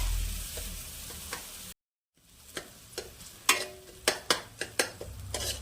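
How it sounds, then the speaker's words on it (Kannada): Onions and tomatoes fry in a pan, a soft sizzle broken by a short silent gap, then a run of sharp spoon taps and scraping stirs against the pan. "ಈರುಳ್ಳಿ ಕಂದು ಬಣ್ಣ ಬರುವವರೆಗೂ ಫ್ರೈ ಮಾಡಿಕೊಳ್ಳಿ. ನಂತರ ಅದಕ್ಕೆ 2 ಹೆಚ್ಚಿದ ಟೊಮೆಟೊವನ್ನು ಹಾಕಿಕೊಳ್ಳಿ."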